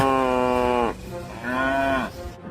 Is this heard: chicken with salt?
no